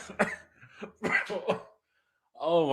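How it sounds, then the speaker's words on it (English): A couple of harsh coughs and throat-clearing sounds from a nearby voice, with a brief pause, then a rougher hacking sound at the end. "Oh my gosh, I'm about to start coughing."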